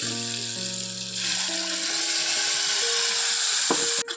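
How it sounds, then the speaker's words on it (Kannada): Ground masala fries in a pan without water for alasandhi kattu saru, a steady close sizzle running throughout, with a faint low hum at the start and a brief clatter near the end. "1 ನಿಮಿಷ ಫ್ರೈ ಮಾಡೋಣ, ಇಷ್ಟೇ, ನೀರು ಹಾಕಲ್ದೆ"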